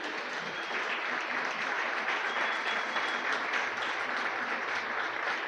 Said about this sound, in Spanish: Le da un fuerte aplauso al Señor.